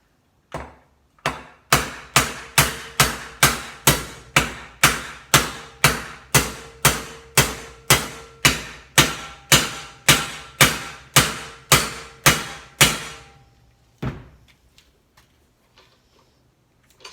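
Flat metal stock being hammered over in a vise, about twenty-five loud, evenly paced ringing blows that speed up slightly, then a pause and a few lighter taps near the end.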